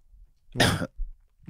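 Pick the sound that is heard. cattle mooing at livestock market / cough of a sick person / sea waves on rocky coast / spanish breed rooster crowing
cough of a sick person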